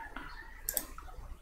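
A single computer mouse click on a start button, short and crisp, faint against a quiet room hum with no talking.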